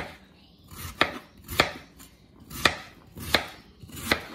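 A knife chops potatoes on a cutting board in five distinct strokes, evenly spaced and close, with quiet pauses between each cut.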